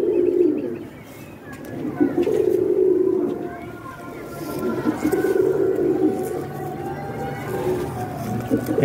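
Ferozpuri pigeons cooing in a pigeon club loft, soft low repeated coos continuing steadily through the clip with faint chirps and some background human voices.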